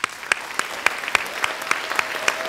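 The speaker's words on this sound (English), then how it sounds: "well-deserved round of applause" Scattered, fairly close hand claps from an audience at a middle school academic awards ceremony, applauding the parents; only a few distinct claps ring out over a thin background of clapping.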